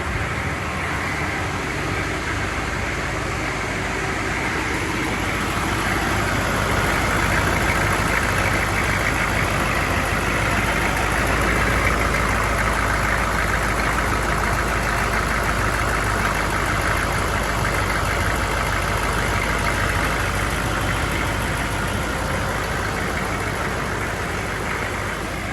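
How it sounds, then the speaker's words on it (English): The Detroit Diesel engine of a 1995 Chevrolet Silverado idles with a steady, rough, even rumble that runs unbroken throughout, with no voices. "Let her sit here and idle."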